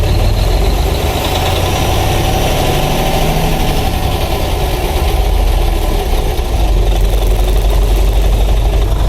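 A truck engine idles loudly and steadily during a diagnostic cylinder stop test, a close, constant low rumble with a mild uneven throb and no pauses throughout.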